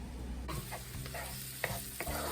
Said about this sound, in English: Onions are starting to soften up, but we want to cook them just a little bit more